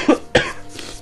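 A sick person coughs twice in quick succession, sharp close bursts followed by a faint softer trailing breath.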